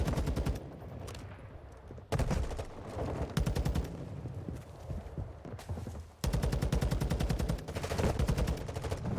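Rapid automatic gunfire in the video game Modern Warfare 2, loud dense bursts with short pauses between them, running through the whole stretch.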